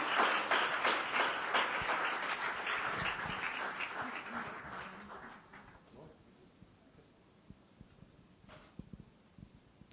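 A church congregation claps in a dense burst for about five seconds, then the applause trails off into a quieter room with scattered small knocks.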